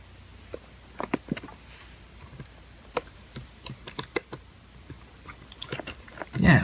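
Typing on a Mid-2010 13-inch MacBook Pro keyboard, scattered clicky keystrokes in irregular bursts, close and crisp, with a louder rustle at the end.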